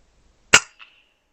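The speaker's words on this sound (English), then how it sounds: "So I take a shot of this one," An FX Impact M3 air rifle fires once at a pheasant near a squirrel feeder, giving a single sharp, close crack with a faint clink or impact a quarter second after, then silence.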